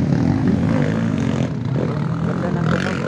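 A motocross motorcycle engine at a 2022 town-festival race drones loud and steady, a dense throaty roar that swells and dips slightly as the bike rides by, with faint crowd voices underneath.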